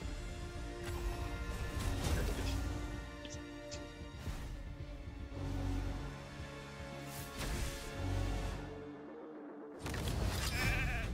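A sheep bleats inside the fantasy video game Raid Shadow Legends, buried in a dense, loud mix of game music, clashing impacts and mechanical effects that runs almost without a break.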